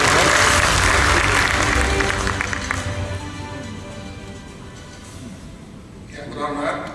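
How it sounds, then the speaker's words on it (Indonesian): An event crowd applauds as the governor of Nusa Tenggara Timur walks through. The clapping is loud at first and then fades under ongoing talk, and a brief rise in noise comes near the end. "Boleh mengiring langkah Bapak Gubernur Nusa Tenggara Timur dengan tepuk tangan yang meriah Bapak Ibu sekalian"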